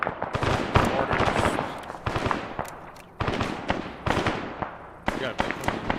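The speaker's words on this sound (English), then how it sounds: "Mortars." Mortar fire hits during a combat operation, a series of sharp, loud blasts and cracks arriving in irregular bursts over several seconds, with voices talking in between.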